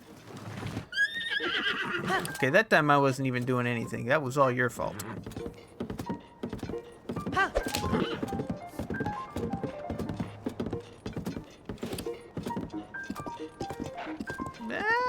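A horse in Tears of the Kingdom whinnies loudly with a long, wavering neigh early on, followed by clip-clop hooves and game sounds while someone talks over it.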